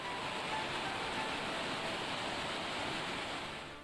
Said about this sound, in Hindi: पहाड़ों से गिरता झरना आसपास की रहवासियों को आने के लिए मजबूर कर रहा है।